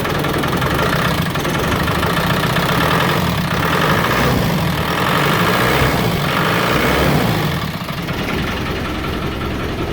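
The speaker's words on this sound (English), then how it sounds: "So the engine's working." A diesel engine runs steadily and loudly with a low rumbling chug after its fuel system is bled, easing off slightly near the end; no voices.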